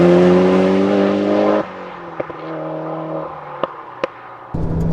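A modified 400-horsepower Mitsubishi Evo IX wagon revs hard under acceleration, the engine note climbing before a gearshift drop, then quieter engine hum with a few sharp clicks and thumps.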